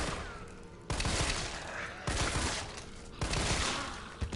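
Handgun firing in bursts in the Resident Evil 3 video game: three sharp, loud rapid-fire volleys roughly a second apart, each a dense cluster of shots with brief decaying tails.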